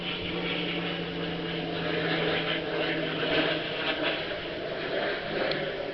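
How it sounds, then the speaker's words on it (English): Light airplane passing overhead near a small commercial airport, a steady broadband engine drone that swells slightly mid-clip and stays moderately loud throughout, with no talking. "I do apologize for the plane flying overhead."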